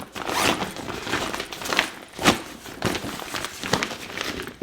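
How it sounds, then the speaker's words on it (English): A zipper on a Peter McKinnon x Nomatic camera cube backpack being pulled open close up, several rasping zip strokes with fabric rustle between them. "you got a little zipper right over here. If you unzip it"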